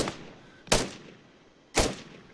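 Arma 3 rifle fire: two sharp, close gunshots about a second apart, each a crisp crack followed by a rolling echo tail that decays, with a fainter shot fading at the very start.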